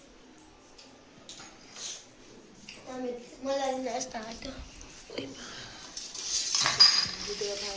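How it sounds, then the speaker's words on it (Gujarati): Spoons clink against dishes in scattered taps while people talk nearby, with a dog whimpering briefly and a sharper clatter near the end. "રે રુદ્ર ચમચી લાવ્યો મારી"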